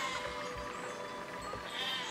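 Repeated sheep bleats over a continuous soundtrack in the game Besiege, several short calls in a row, moderately faint.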